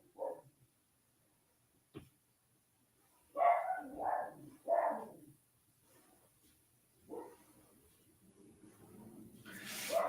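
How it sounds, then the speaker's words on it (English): A dog barks excitedly downstairs in a house, a few muffled, distant barks spaced out over quiet room tone during a live stream. "My dog has been so good, and he's going nuts down there today."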